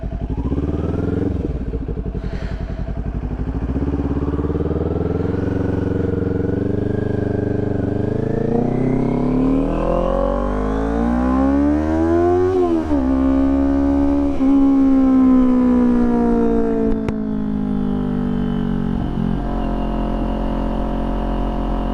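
A 2023 Kawasaki Ninja 400 KRT edition fitted with a Coffman's Shorty slip-on exhaust revs up close, its engine pitch climbing and falling through several throttle blips with a loud, raspy note.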